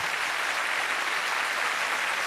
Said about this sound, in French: Applaudissements pour les filles, mesdames, messieurs.